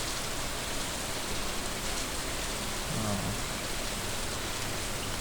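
Steady rain falling onto water in the farming game Stardew Valley, a constant soft hiss of dense drops that stays even and close throughout with no voices.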